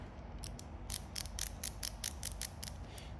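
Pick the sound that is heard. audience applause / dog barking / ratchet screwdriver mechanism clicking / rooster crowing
ratchet screwdriver mechanism clicking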